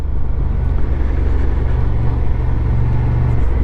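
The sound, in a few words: Honda Transalp 750 motorcycle engine riding in second gear on gravel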